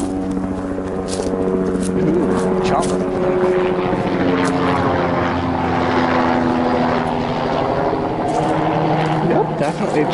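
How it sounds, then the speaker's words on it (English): Helicopter passing overhead in a wooded area, a loud, steady droning rotor hum with throbbing low tones and washes of wind-like noise throughout, with a voice talking over it. "Definitely a chopper."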